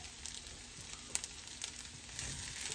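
Okra frying in an iron skillet gives a steady, soft sizzle and crackle with a few small pops, close and fairly quiet, with no voices.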